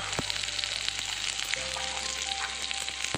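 Onion, ginger and garlic fry in a kadai pan, a steady close sizzle running the whole time with small crackles and a brief clink near the middle.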